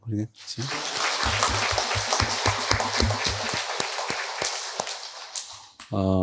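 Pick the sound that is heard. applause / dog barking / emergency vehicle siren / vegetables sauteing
applause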